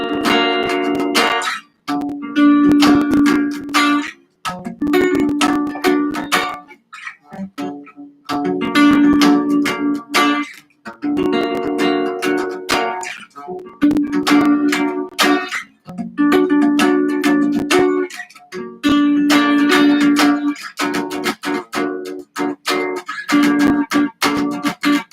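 Guitar strumming chords on the bottom four strings in a steady repeating rhythm, close and fairly loud, with brief pauses between groups of strums.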